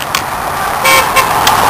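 A passing car on a road toots its horn in short bursts amid traffic noise, loud and close, a few quick honks over the steady rumble.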